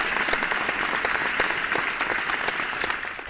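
Audience at a spelling bee competition in Telangana applauding steadily, a dense patter of many hands clapping indoors that tapers slightly toward the end.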